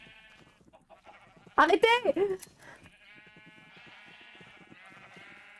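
Loud sheep bleats from the Minecraft video game burst out in a quick cluster of wavering cries, set against steady game music and someone shouting briefly in French.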